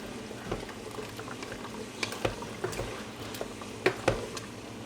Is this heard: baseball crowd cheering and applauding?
no